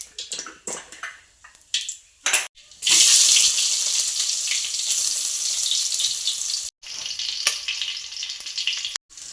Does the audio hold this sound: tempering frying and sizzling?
yes